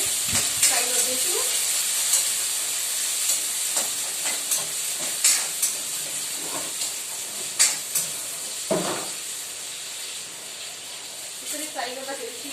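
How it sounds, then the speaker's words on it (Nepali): Ingredients lightly frying in a pan on a home gas stove, a continuous soft sizzle and hiss with occasional scraping stirs and utensil knocks, close by, with some talking over part of it. "अलिकति हल्का हल्का मात्रै 5 मिनट फ्राई गर्दैछु"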